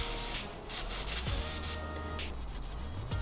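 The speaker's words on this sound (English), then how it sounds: "So spray some on there, spray some on our towel, rub it on there." Quick hissing bursts of a spray bottle of cleaner onto a car wheel and towel, followed by steady scrubbing, the towel rubbing back and forth close by.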